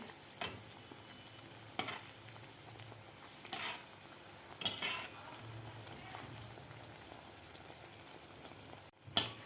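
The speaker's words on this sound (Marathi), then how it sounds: "ब्रेड तळून घ्यायचं आहे गोल्डन कलर होईपर्यंत आपल्याला हा ब्रेड तळून घ्यायचा आहे" Bread fries in hot oil in a pan until golden, giving a faint, steady sizzle with occasional soft stirring clicks and brief crackles throughout.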